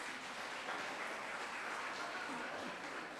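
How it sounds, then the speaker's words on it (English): Conference audience claps steadily for a visiting research scholar from Uganda, a soft, even wash of applause from a seated crowd, fairly distant and continuous, with faint speech mixed in. "So give him a good clap"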